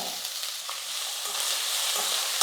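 Chopped onions and curry leaves sauté in hot oil in a pan, giving a steady close sizzle with light stirring scrapes throughout.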